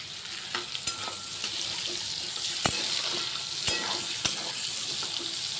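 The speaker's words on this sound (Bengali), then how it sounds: "এই আলুটা আমি ভালো করে ভেজে নেবো" Cut potatoes frying in oil in a pan for a home lunch, a steady broadband sizzle with a few sharp clicks of a spatula scraping and stirring throughout.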